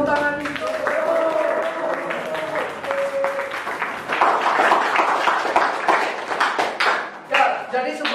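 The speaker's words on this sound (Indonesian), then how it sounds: "Oh siap, beri tepuk tangan." Students in a classroom clap together in warm, sustained applause, bright and close, with voices talking through the clapping.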